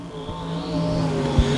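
Stock cars racing down the front straightaway at I-35 Speedway, loud engine roar with a rising pitch as the cars pass close by, plus a brief thump near the end.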